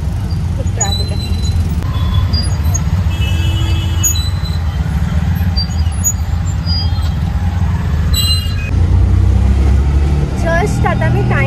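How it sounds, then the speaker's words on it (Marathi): Busy road traffic with vehicle rumble, occasional horn-like tones and brake hiss, heard close and continuous throughout, with a louder passing engine near the end and talk over it. "खूप ट्रॅफिक आहे."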